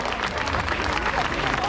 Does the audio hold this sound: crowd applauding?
yes